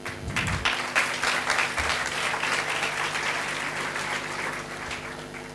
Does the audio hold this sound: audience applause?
yes